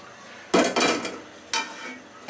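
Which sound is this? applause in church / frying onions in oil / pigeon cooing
frying onions in oil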